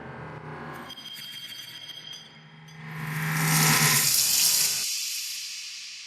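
Musique concrète collage of door, cutlery and faucet sounds: clattering and knocking at the start give way to a swelling hiss of running water that peaks and then tapers off into a quieter tail.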